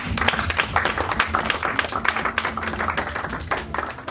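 A church congregation applauds in a continuous patter of clapping, moderately loud, with scattered voices calling out over it.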